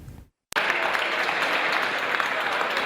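Deputies in a parliament applaud at length, dense and sustained clapping that starts abruptly after a brief silence and holds at an even level throughout, with a voice faintly audible over it.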